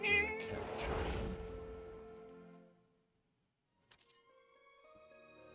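A single drawn-out cat meow in the video game Forspoken, clear and close, fading away, followed by a few faint clicks and a soft lingering tone.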